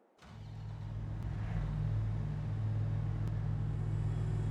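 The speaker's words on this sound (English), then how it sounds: "I'll take the combine up, I'll get started up there" A combine harvester's diesel engine starts up inside a shed and settles into a deep, steady rumble, close and continuous, with no talking.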